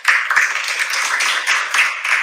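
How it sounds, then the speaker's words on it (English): Classroom applause from a group of students, a steady, dense clatter of many hands clapping together for about two seconds, fairly loud and close, with no talking over it. "Let me give you an applause."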